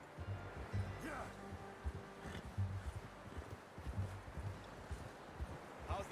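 Hooves of a horse in Red Dead Redemption 2 clip-clop at a walking pace, steady and fairly close, with faint rustling around them.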